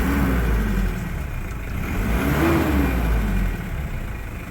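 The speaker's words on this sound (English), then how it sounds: "So we'll give it a little gas." A 1992 Mitsubishi Pajero turbo diesel engine revs under light throttle outdoors, a steady close low rumble that swells briefly midway and settles back toward idle, with no talking.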